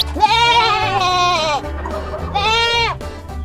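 A goat bleats twice, loud and close, each wavering call about a second long with a pause between, over light rhythmic background music.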